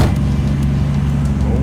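A 1965 Ford Mustang engine idles while warming up after being started, a loud, steady low rumble heard up close and unchanging over a short stretch.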